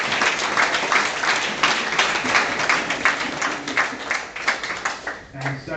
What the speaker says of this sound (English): We can give another round of applause to that.